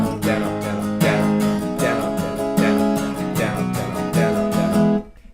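An acoustic guitar strums chords in a steady down-up pattern, close and clear, with evenly spaced strokes and regular accents before the final chord rings out and fades.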